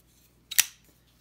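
An ABKT Laramie folding knife is flicked while fidgeting, producing one crisp, sharp metallic snap with a quick double click, close-up against near silence.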